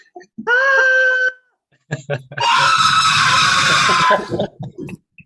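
A man screams in a Christmas movie scene after a blowtorch hits him in the head: a short, tonal wail, then a pause, then a longer, harsher scream that fills the space, both loud and close.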